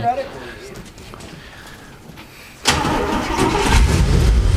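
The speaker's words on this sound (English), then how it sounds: "I know it's from 1955, and I'm pretty sure it's an upper bedroom. Yeah, so it's very, very old. But it does still fire right up." An old 1955 engine in a 1940 Ford truck cranks and fires up about halfway through, then keeps running loud and steady close by, with a voice speaking over the quieter stretch before it starts.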